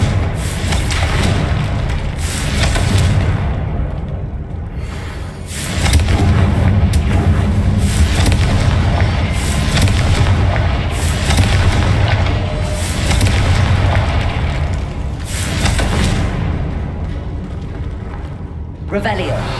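Confringo spell blasts in Hogwarts Legacy burst one after another, heavy booming explosions with deep thuds recurring every couple of seconds amid ongoing combat noise.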